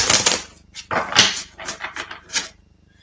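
A deck of tarot cards being shuffled by hand, a run of quick papery riffles and slaps in uneven bursts, close and fairly loud, with no voice.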